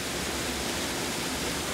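A waterfall roars as a steady, dense, even wash of rushing water, continuous and fairly loud throughout with no voices.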